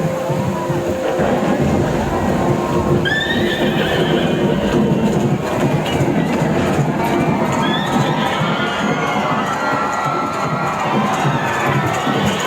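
A horse whinnies twice, loud and drawn-out, within a dense soundtrack of crowd cheers, shouting and hoofbeats, part of a story light show at Baghe Bahu in Jammu and Kashmir about the Pandavas' Ashvamedha sacrificial horse.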